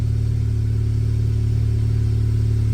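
A 10th-generation Honda Civic Type R engine idles with a steady, even hum, close and constant, with no other sounds.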